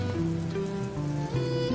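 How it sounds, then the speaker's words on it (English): Steady rain falling in the video game Braid, a soft continuous patter that sits beneath sustained, gently shifting musical tones throughout. "it's also raining, and it continues to rain more and more as you go through the world"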